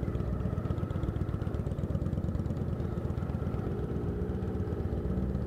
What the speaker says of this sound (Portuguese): Eu acho que é uma Harley Davidson.